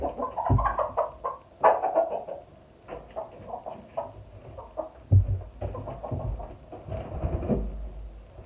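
Hens in a coop cluck and murmur softly nearby in an irregular stream of low, throaty notes, with occasional louder clucks.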